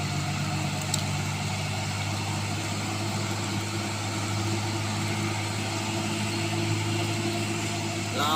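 A Hino truck engine runs loud and steady up close with a deep, even drone, holding a continuous level with no distinct surges throughout.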